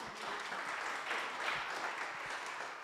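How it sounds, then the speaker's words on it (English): A conference audience applauds a panel, giving a steady, moderately loud round of clapping that fills the room evenly from start to finish. "So I believe this panel deserves a clap from us."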